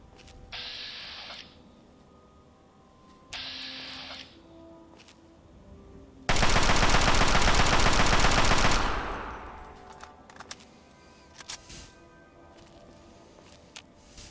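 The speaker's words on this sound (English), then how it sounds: "He's got a machine gun" Sustained burst of machine gun fire in Fallout 3, loud and close for about two and a half seconds, preceded by two shorter mechanical bursts and followed by a few scattered sharp clicks.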